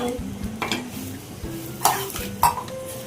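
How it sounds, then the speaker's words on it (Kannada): Capsicum and onion frying in a pan for chicken gravy, a soft sizzle under several sharp spatula scrapes and clinks against the pan, close by, with no speech. "ಕ್ಯಾಪ್ಸಿಕಮ್ ಈರುಳ್ಳಿ ಇಟ್ಕೊಂಡಿದ್ವಲ್ಲ ಅದನ್ನ ಫ್ರೈ ಮಾಡ್ಕೊಳ್ಳೋಣ"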